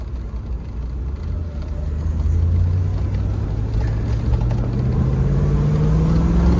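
A 1994 Chevrolet Corvette engine runs steadily and loudly nearby, a low continuous rumble whose pitch climbs gradually as it revs, heard alone without voices.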